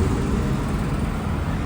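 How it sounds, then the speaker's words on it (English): Steady road traffic flowing on a street in Riyadh after Friday prayer, a continuous broadband roar of passing cars heard from the roadside, fairly even in level. "you already see the traffic"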